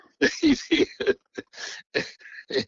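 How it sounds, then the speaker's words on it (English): A man coughs in a series of rough, raspy bursts in close succession. The fit is loud, close and uneven, with short gaps between the hacks. "I had to stop there and cough for a minute"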